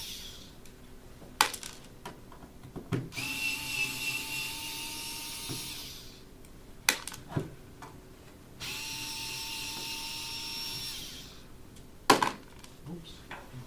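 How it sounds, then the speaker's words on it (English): Four screws are backed out of the bottom of a metal equipment case, giving sharp ratcheting clicks and two long whirring stretches of a powered screwdriver, with scattered taps and handling noise in a quiet room. "Remove the 4 screws from the bottom of the case securing the shell."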